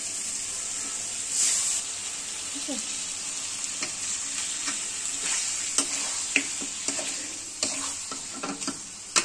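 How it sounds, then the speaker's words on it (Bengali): Sonali chicken fries in spice masala with a constant crackling sizzle, broken by sharp scraping clicks as it is stirred repeatedly. "মশলার মধ্যে আমি মুরগিটাকে কষাবো"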